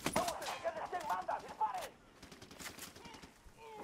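Rapid gunfire bursts crackle in a shooter video game, dense volleys for a couple of seconds, then sparser distant shots as players talk over the action.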